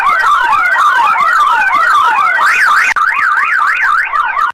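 A loud electronic alarm wails continuously in a rapid up-and-down sweeping pattern, resembling a fire alarm in a school building going off, sounding alone without any talk throughout.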